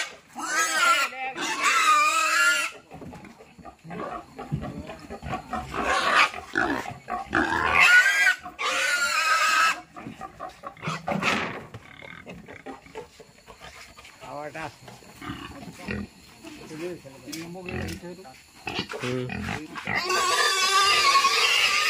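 Pigs squeal loudly in repeated harsh bursts while being lifted by several men at night, the cries rising and falling across the scene with people talking over and between them.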